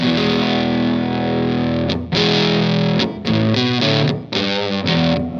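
Electric guitar played through a Big Muff fuzz pedal, heavily distorted, sustained chords broken by a few brief cuts, loud and up close with no talk.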